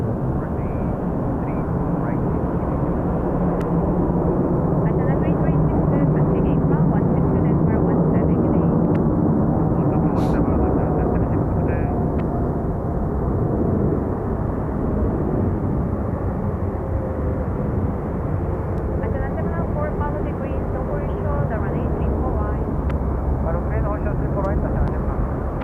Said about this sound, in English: Well, 747 on finals.